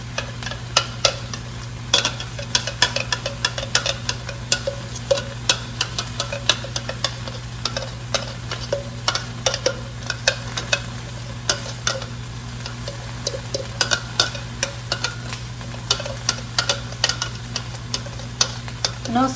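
Onions sizzle steadily in a pan for soup, a dense crackling hiss with scattered pops and occasional stirring clinks, close and constant, with a low hum running underneath and no talking.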